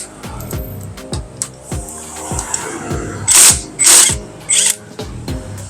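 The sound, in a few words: power tool with 17mm deep socket removing nut on ADV160 magneto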